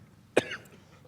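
A single sharp cough, close and fairly loud, in an otherwise quiet room.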